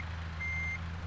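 Truck reversing alarm in a truck-driving game while lining up with a trailer: a single steady electronic beep tone sustained over a low, constant diesel engine rumble, close and fairly loud, with no talking.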